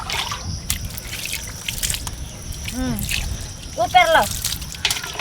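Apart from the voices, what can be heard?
water being poured over dirty feet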